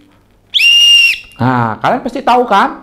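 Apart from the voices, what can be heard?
whistle blown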